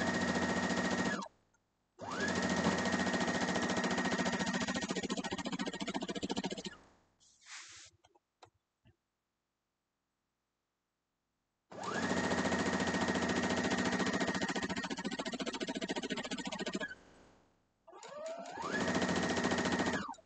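A sewing machine stitches a quilt block in two long, steady whirring runs, close and even, separated by a quiet pause with faint handling clicks.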